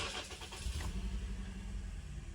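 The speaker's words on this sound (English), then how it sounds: "Start the car." A Toyota Corolla engine starting: a quick cranking sputter that settles into a steady, close idle rumble.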